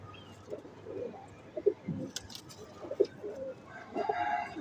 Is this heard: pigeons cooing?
yes